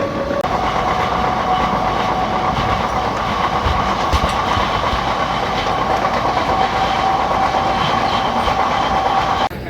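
A DMU passenger train running from Jalandhar toward Ambala rolls along the rails with loud, continuous rumble and rhythmic clickety-clack from inside the carriage, steady throughout with no voices.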